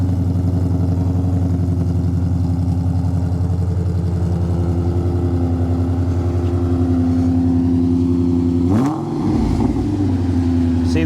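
A deep, rumbling supercharged V8 engine of a 2007 Mustang Shelby GT500 idles loudly and steadily, then briefly revs up near the end before settling back.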